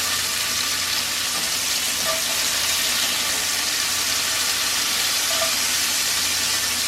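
Burger patties sizzle in a frying pan just after flipping, a loud, steady crackling hiss with occasional small pops throughout.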